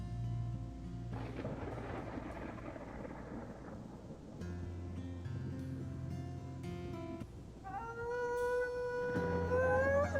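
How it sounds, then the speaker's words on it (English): Thunder from a lightning strike in the WolfQuest wolf game, a long rolling rumble with rain underneath and tonal game music or howl-like tones rising toward the end, steady and fairly loud throughout. "That was a cool lightning strike."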